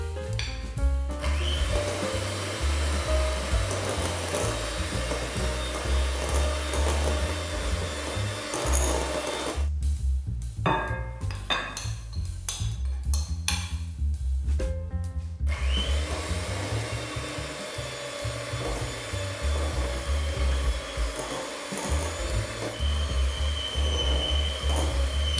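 An electric mixer whirs in a loud, steady drone while dry ingredients are blended into an egg mixture for peanut butter cake, briefly stopping partway before running again.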